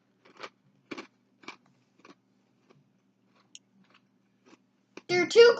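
Crunchy Sour Patch cereal eaten with yogurt is chewed close to the mic in a few distinct crunching bites spaced apart, followed by a burst of speech at the end.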